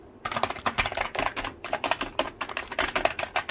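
Fast, close keystrokes on a cheap Computer Specialist KB-G100+ wired UK keyboard, a dense, continuous clacking run with slight gaps, heard alone without speech.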